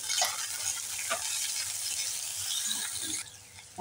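Onion fries with black mustard seeds in hot oil in a pan, a steady close sizzle with a few scraping stirs, alone without talk.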